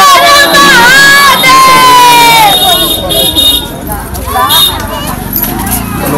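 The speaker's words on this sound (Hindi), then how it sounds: "काफ़ी भीड़ है, दिन पे दिन भीड़ का जो है बढ़ता जा रहा है" A large, noisy crowd packs a Sheetla Mata temple, with loud overlapping voices, shouting and horn toots close by, while someone talks over the steady din.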